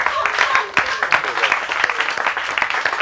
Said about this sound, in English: Clap to that one.